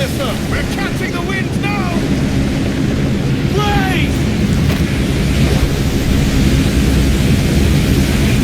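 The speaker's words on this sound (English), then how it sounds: "Storm brewing there, sir." Thunderstorm at sea in the video game Assassin's Creed Black Flag, with a dense, continuous roar of wind, rain and waves around a sailing ship, broken by a few shouted voices and whistling calls.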